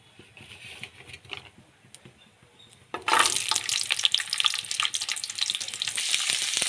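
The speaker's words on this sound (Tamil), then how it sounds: "இஞ்சி பூண்டு நல்லா வதக்கிடணும்" Ginger and garlic hit hot oil for a village-style Tamil chicken kulambu made without coconut, bursting into a loud, continuous crackling sizzle after a few seconds of quiet kitchen clatter, close and steady to the end.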